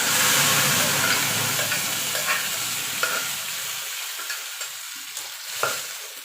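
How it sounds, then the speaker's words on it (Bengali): Masoor lentils are poured into hot fried onions with a loud, close, crackling sizzle that gradually settles, punctuated by a few sharp stirring scrapes and spatters. "দেখুন বন্ধুরা পেঁয়াজটা ভাজা হয়ে গেছে এবার ডালটা ঢেলে দেবো"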